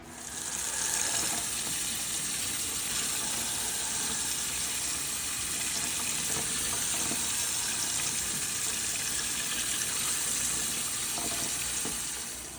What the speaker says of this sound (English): I soak it overnight, and then I rinse it very well